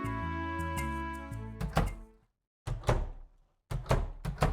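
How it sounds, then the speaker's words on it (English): Shop door in Stardew Valley Expanded closing again and again: a string of dull wooden thunks in irregular bursts, the first over light game music, then clustered knocks separated by short silences. "the sound of the door just closing over and over is so sad"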